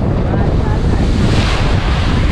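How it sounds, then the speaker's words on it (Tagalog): Choppy sea waves churn and rush around a boat on a tour, a loud, dense wash of water with heavy wind buffeting the microphone and no clear speech. "medyo maalon pa, kung mapapansin nyo"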